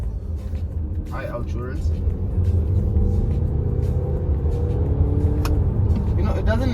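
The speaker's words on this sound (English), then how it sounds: "Despite it being a diesel, it does make quite a nice noise." An Audi Q5 Sportback diesel engine runs as a steady low rumble throughout, rising slightly in level partway, with someone talking over it.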